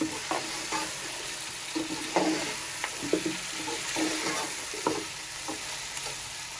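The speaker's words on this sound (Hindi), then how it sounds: "अपने मसाले के साथ थोड़ा सा गोश्त को फ्राई कर लेंगे।" Boiled beef fries with spices in a pot, making a steady close sizzle broken by repeated scraping stirs at an irregular rhythm.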